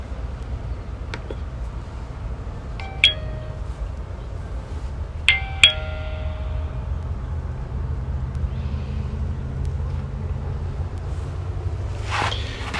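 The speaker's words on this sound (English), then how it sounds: "And when you ring the bell," Tuya Elivco WiFi video doorbell ringing indoors, giving short electronic chime tones in two brief bursts over a steady low hum, with a faint higher tone near the end.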